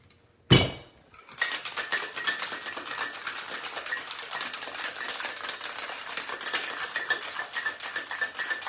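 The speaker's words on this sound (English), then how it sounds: "And now we're gonna give a couple of ice cubes in there for shaking." Ice cubes with gin rattle hard inside a cocktail shaker: one sharp clank as the shaker closes, then a steady, busy stretch of rapid clinking and rattling that runs for several seconds with no speech.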